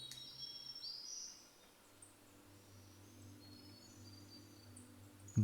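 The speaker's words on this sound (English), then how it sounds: "Bird noise." Bird calls in Colony Survival video game ambience, a few faint high chirps and short whistles over a low steady background drone, sparse and distant.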